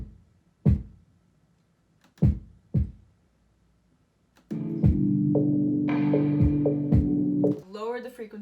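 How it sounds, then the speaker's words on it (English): Electronic kick drum line in a music production, three isolated deep punchy thumps spaced out, followed by a sustained low tonal layer where the kick keeps hitting underneath. "So I added this kick here,"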